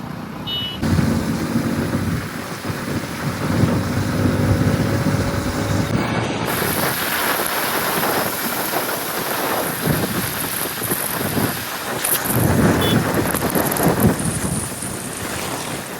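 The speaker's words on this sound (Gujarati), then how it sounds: "અંધારી વરસાદ પડશે હો એવું લાગે સોટા પડી જવા ચાલુ થઈ ગયા સોટા" Rain sets in during a storm as a steady, loud, close hiss of falling drops. Gusts of wind buffet the microphone, and no voices are heard.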